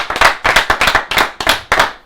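A few people clapping in quick, uneven bursts, sharp close claps in irregular rhythm over about two seconds, loud with no talk.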